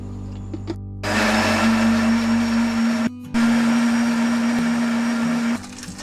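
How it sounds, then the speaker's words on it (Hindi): Kitchen blender whirring as it mixes a lemon, soda and mint drink, loud steady motor drone starting after a second, briefly cutting out near the middle, then resuming before stopping near the end. "एक मिनट के लिए ब्लेंडर को चलाएंगे"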